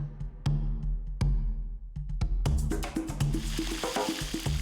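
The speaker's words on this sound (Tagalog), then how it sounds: "Sa mainit na kawali, iprito ang isda." Fish frying in a hot pan for a Batangas-style home meal, a steady sizzle rising and thickening partway through, with clicks and clatter of utensils and cookware up close, no talking.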